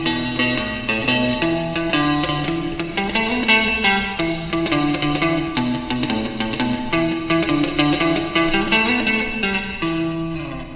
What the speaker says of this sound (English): let me show you like a normal reverb real quick